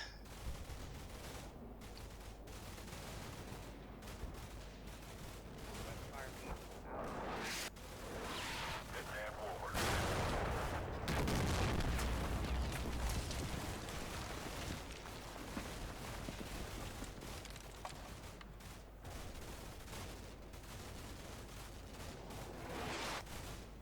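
Artillery fire in the war game Combat Mission Shock Force 2: dense rolling booms and crackling gunfire, growing heavier in the middle, with someone talking over it at times.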